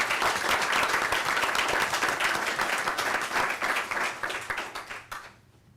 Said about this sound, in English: Let's give a round of applause to Port Salerno Elementary School